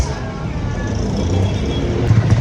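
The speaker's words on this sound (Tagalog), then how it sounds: "Traffic!" Steady road traffic with cars and buses in a busy city street, a continuous low rumble of engines that swells slightly near the end, fairly close and loud, with faint voices mixed in.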